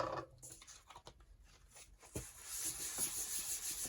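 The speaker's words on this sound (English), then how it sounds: "burnish it down" A paper craft tag is burnished down by hand, producing soft, close rubbing strokes in short irregular passes, faint and scratchy, with no talking.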